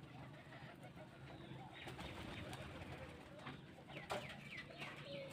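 Rajshahi Giribaj pigeons coo in a loft, soft repeated throaty calls layered over a busy murmur of birds, with faint voices in the background.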